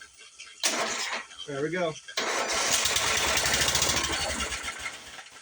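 An old red Murray 11-horsepower engine fitted with a muffler cranks, catches and settles into a loud, steady idle, with someone speaking briefly over it.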